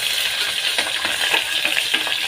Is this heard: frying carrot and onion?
yes